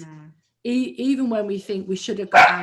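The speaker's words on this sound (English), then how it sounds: "That was my dog," A pet dog barking several times in quick succession indoors, loud and close, overlapping a person speaking.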